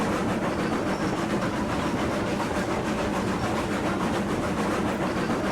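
A steam locomotive runs in the video game RailRoads Online, giving a continuous dense rumbling chug with rail noise, steady and fairly loud throughout without talk.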